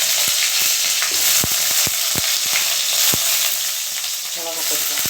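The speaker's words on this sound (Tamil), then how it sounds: "கலர் மாறினதுக்கப்புறம் வெங்காயம் போட்டுக்கலாம்." Onions sizzling and frying in hot oil in a pan for ridge gourd chutney, a steady loud crackle with scattered sharp pops and occasional stirring scrapes.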